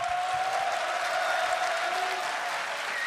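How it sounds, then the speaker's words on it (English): Steady, dense applause from the analyst desk at a League of Legends World Championship group-stage broadcast fills the moment with even, continuous clapping and no spoken words. "And receiving the applause from the guys here as well."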